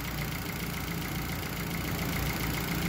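Yamaha F60 EFI outboard engine idling smoothly, a steady, even low rumble with a faint mechanical whir, close and continuous, with no knocking.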